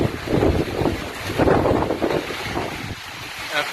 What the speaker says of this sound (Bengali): প্রচন্ড দমকা হাওয়া দিচ্ছে